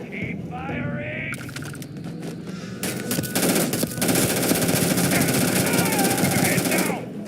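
Rapid automatic gunfire bursts from the Starfield video game, loud and dense for several seconds amid other game effects, with voices heard shouting in the background.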